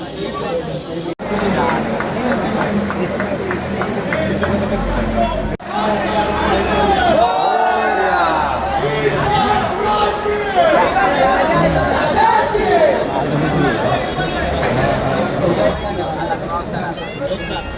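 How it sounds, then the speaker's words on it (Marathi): A crowd gathered outside a workshop for a Ganpati idol procession in Surat fills the air with dense, continuous chatter, loud and close, with nearby voices talking over the general hubbub. "गर्दी जमलेली आहे इकडे थोडी."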